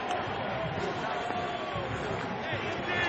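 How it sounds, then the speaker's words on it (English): Trojan fans cheer in a football stadium during a 2005 USC Trojans versus Arizona State game, a steady, broad crowd roar heard at a distance with no distinct peaks, continuous throughout. "And the Trojan fans cheer."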